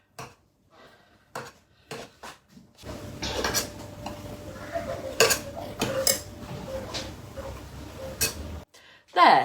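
A pastry edge is trimmed off around the side of a pie dish for a corned beef and potato pie. Scattered soft scrapes and clinks of the dish come first, then a denser stretch of cutting and scraping against the dish, with a sharp knock at the end.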